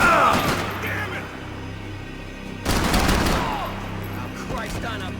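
Gunfire in the video game Max Payne 3 comes in dense, loud fusillades: a heavy burst at the start, a lull, then another sustained volley, with voices talking over the shooting.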